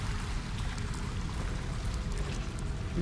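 Steady running water in the video game Alone in the Dark (2024), a continuous low rushing wash that stays even and moderately loud throughout, with no voices.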